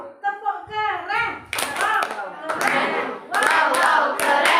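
A class of children performs a rhythmic group clap, with dense rapid bursts of hand claps that grow louder toward the end, mixed with excited shouting and chanting voices.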